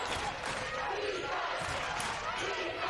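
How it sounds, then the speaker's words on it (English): Providence Academy crowd in a gym at a state championship basketball game yelling and cheering continuously, a dense roar of voices and shouts filling the room before halftime. "You can hear the Providence Academy crowd trying to pump up these players."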